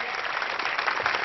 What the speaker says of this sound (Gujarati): એ સિદ્ધિઓને આપણે જોરદાર તાળીઓથી વધાવવાની છે.